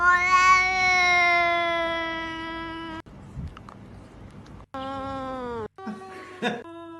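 A cat meows loudly in long drawn-out wails, several calls separated by short pauses, close by.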